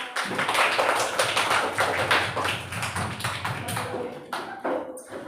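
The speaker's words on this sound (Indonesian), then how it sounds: "tepuk tangan untuk kelompok 1" Classroom applause for a student group after their presentation, dense overlapping hand claps from many people, steady and fairly loud, thinning out near the end.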